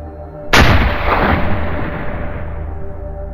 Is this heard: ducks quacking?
no